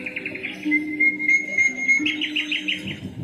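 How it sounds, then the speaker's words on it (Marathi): Sparrows chirp in a short burst of bright, repeated tweets and thin whistled notes, close and clear over a quiet background with no talking. "तेव्हा चिमण्यांचा चिवचिव."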